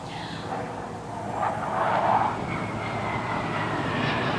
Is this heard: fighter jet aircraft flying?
yes